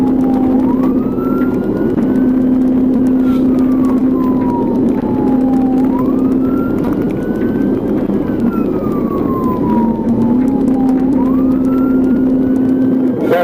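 A police car's wailing siren rises and falls in long, regular sweeps, loud and close over a constant engine roar during a high-speed chase.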